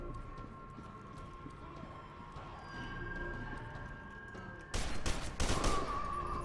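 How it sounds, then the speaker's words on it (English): Bursts of assault rifle fire in the F.E.A.R. 2 video game crackle in two quick volleys near the end, following a quieter stretch of low game ambience and hum. "Right, cool, I got my assault rifle."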